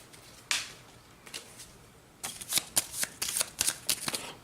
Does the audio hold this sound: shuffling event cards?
yes